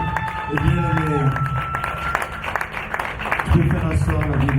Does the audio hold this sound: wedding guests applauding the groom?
yes